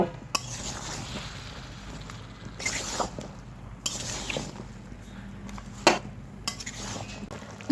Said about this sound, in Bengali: এখন আমি মশলার সঙ্গে লাউগুলোকে সুন্দরভাবে মিশিয়ে নিয়ে কষিয়ে নেব